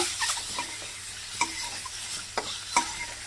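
Boiled eggs frying in a pan with chili powder and salt: a steady close sizzle with a few scraping clinks of a spatula stirring the pan.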